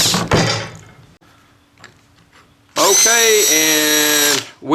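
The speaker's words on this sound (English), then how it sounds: "done drilling the 1/2-inch hole into the T" An electric drill bores a 1/2-inch hole into a pipe tee, a loud, steady whine lasting about two seconds with shifting pitch as it bites, preceded by clunks and handling noise and followed by a brief stop.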